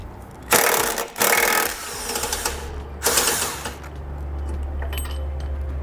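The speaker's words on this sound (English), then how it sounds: "we'll use an 18mm socket in order to remove that body bolt." An 18mm socket wrench removing a vehicle body bolt, with several loud bursts of rapid mechanical rattling and clicking over a low steady hum, heard up close without talk.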